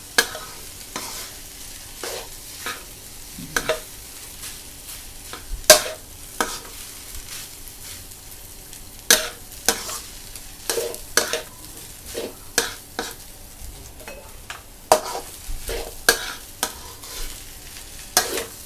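Rice stir-fried with egg in a pan on medium heat for a shrimp-paste and cha-om fried rice, with a soft continuous sizzle and frequent sharp utensil scrapes and taps against the pan, close up and without talk.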